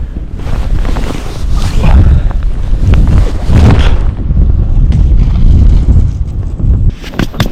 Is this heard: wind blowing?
yes